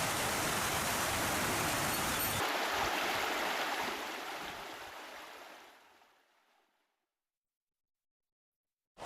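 Rainwater rushing through a cleared irrigation canal into a village pond, a dense steady watery hiss that gradually fades away to silence near the end.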